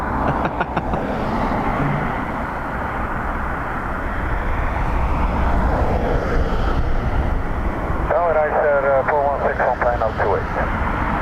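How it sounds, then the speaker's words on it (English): A Ryanair Learjet flies overhead near Dublin Airport on a windy day, a steady broad engine roar that stays loud throughout, with wind buffeting the microphone and a voice briefly heard near the end. "That's the Ryanair Learjet still up there."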